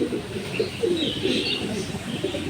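Low, rolling coos from racing pigeons in a Tangail breeding loft, several birds murmuring continuously and close by, with light chirps and a steady ambient hiss beneath.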